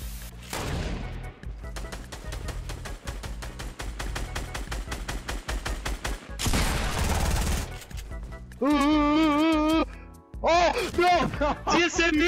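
Fortnite video game gunfire: rapid, loud bursts of shots, then a harsh crash and warbling game effects, all continuous and up close.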